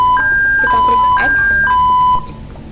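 Alarm beep from VT SCADA industrial control software in a paint making system, a repeated electronic two-tone beep pattern, loud and clear, with mouse clicks and faint background noise.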